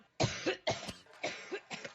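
Someone coughing in a run of short, harsh bursts, about five or six close coughs spread over two seconds, near and fairly loud with no talk.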